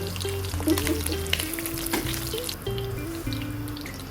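Onions sautéing in a hot pan, a steady crackling sizzle that runs the whole time, close and fairly loud, with tonal hums and some clinking underneath.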